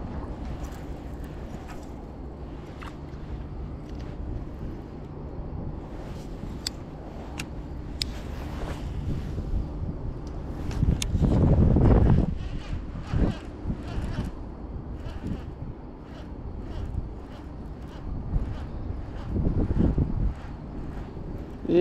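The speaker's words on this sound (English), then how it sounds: "there's a fair amount of wind today" Wind buffets the microphone out on a cold lake during a largemouth bass fishing trip, a steady low rumble with stronger gusts swelling midway and near the end.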